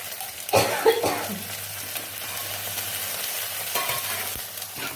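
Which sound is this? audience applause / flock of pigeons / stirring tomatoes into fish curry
stirring tomatoes into fish curry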